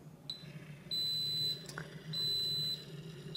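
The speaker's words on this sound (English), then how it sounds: "Do you hear it beeping? Means it is done." Electronic beeping from an Instant Pot pressure cooker signaling it is done cooking tri-tip: long high-pitched beeps repeating at intervals over a low background hum, with a brief clatter in between.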